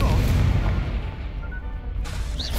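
The Incendio fire spell is cast in the video game Hogwarts Legacy. It produces a loud, heavy, booming burst with a deep rumbling roar that stays strong across the whole moment.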